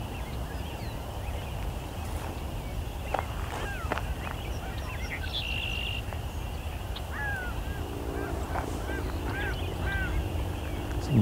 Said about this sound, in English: Some gulls going over.